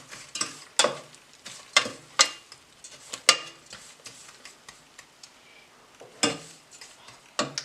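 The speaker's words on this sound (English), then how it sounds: "now I'm going to add my brown sugar. Whew. And give that a stir" Spoon stirring brown sugar into pecan pie filling in a bowl, a series of sharp scraping and tapping strokes in irregular rhythm, close and fairly loud, with no talking.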